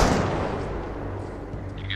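Gunfire in the military shooter game Arma Reforger during an infantry firefight, a dense continuous barrage of shots and rumbling reports, fairly loud and sustained.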